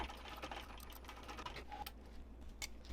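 A sewing machine bastes up the side of a wristlet pocket at a 5 stitch length, a quiet rapid ticking patter of stitches with brief pauses, faint and close.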